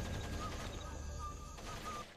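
Distant, muffled rapid gunfire rattles continuously in a noisy Splinter Cell game soundscape.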